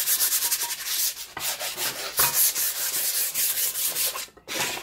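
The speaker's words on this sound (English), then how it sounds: "just give it a quick sand" Hand sanding a gesso-coated canvas with quick back-and-forth strokes, a steady loud close rasping rub with brief pauses between passes, no voices.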